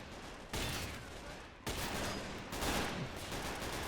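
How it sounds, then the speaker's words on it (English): Dense, sustained machine gun fire in the WWII strategy game Men of War Assault Squad 2 during Battle of Berlin street combat, a loud continuous rattle with abrupt surges as new bursts begin. "Oh, look at them taking all that fire from the machine gun."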